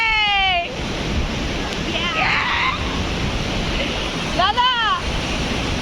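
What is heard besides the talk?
ocean waves breaking at Arambol Beach, Goa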